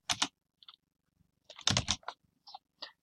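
Keys tapped on a computer keyboard: a few separate, close clicks in short irregular bursts, with quiet gaps between them and no voices.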